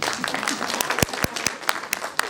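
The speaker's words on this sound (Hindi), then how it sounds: "ताली तो बजाइए कि बोले कि नहीं" A conference audience breaks into applause, a thick wash of clapping with several sharp, close individual claps standing out as it carries on.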